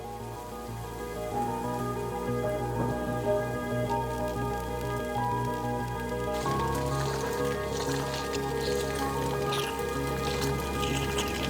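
Steady rain falls on a rhino orphanage reserve with dirt roads, a continuous close patter and drip on surfaces under a low droning hum, with no talk.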